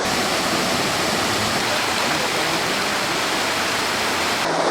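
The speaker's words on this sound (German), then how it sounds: "mit vielen Wasserfällen außenrum" Waterfalls around Laguna Magdalena in the Guatemalan highlands at nearly 3000 metres, a loud, steady, broadband roar of falling water filling the whole stretch without any voices.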